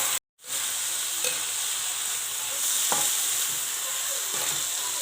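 Chili, bean sprouts and tempe gembus sizzle steadily while being stir-fried in a pan, a constant hiss with occasional soft scrapes of the spatula.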